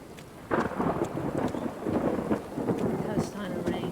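Thunderstorm in the video game Thronebreaker: The Witcher Tales, with a dense, steady hiss of heavy rain and deep rumbling thunder that rolls in loudly after a moment and keeps going.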